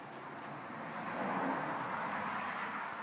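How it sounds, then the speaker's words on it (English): Faint, evenly spaced cricket chirps sound a few times over a steady broadband hum indoors in a workshop, distant and thin against the background noise. "Listen real closely, we got a cricket somewhere in here too."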